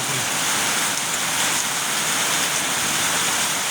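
Heavy rain pours down in a steady, dense roar, a constant wash of hiss with no pauses, close and loud throughout.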